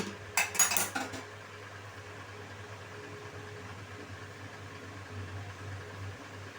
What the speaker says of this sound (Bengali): একটা ঢাকনা দিয়ে আমি ঢেকে দিচ্ছি, ছোটো ঢাকনা দিয়ে, যাতে করে মাংসটা কিছুটা সফট হয়ে যায়